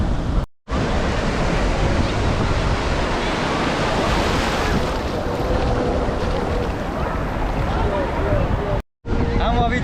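Ocean surf at Puri sea beach in Odisha roars continuously and loudly, a dense wash of breaking waves mixed with wind buffeting, broken by two brief dropouts.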